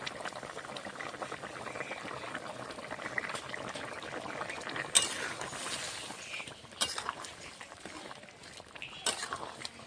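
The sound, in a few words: mixed vegetable and lentil curry boiling in a pot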